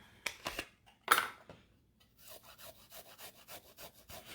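Peeled ginger grated on a microplane, close and distinct, starting with a few separate rasping strokes and then a quick, rhythmic run of repeated scraping passes, with no voices.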